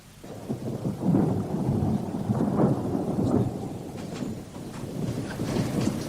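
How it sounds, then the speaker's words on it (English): Thunderstorm on a nasty night, with rolling thunder rumbling under steady heavy rain, loud and close, with no voices. "Another storm brewing by the sound of it."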